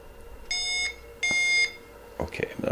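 A Fairhaven micro alti vario emits two sharp electronic beeps in quick succession, clear and close, followed by brief handling noise.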